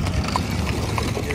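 Hooves of heavy horses and donkeys working together on a Mennonite farm clip-clop in a brisk, irregular rhythm on a road, close by, with a voice talking over them.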